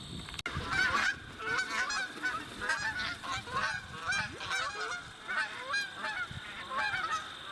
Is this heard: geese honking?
yes